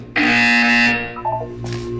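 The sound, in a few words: buzzer in the Portal 2 video game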